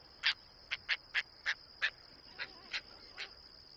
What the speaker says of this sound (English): Ooh, bird of the day. Caspian tern.